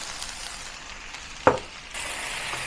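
Celery and chili tumble into a pan of softened onions, giving one sharp clink as the ingredients land, followed by a broad, steady sizzle that grows louder and fills the rest of the moment.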